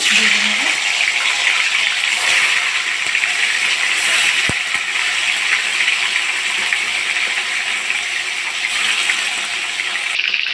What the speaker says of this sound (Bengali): কড়াই বসিয়ে আমি তেল গরম করে নিয়েছি। আমি মাছগুলো দিয়ে দেবো।